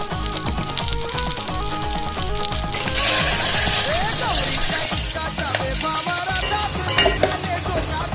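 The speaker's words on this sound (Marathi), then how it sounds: "सगळ्यात आधी आपण फोडणी घालणार आहोत आणि त्यात अख्खे मसाले छान परतणार." Whole spices sizzle in hot oil as a tempering for masale bhat. The frying crackles steadily while a spoon stirs, and the sizzling grows more intense partway through. Music plays underneath and a voice talks over it.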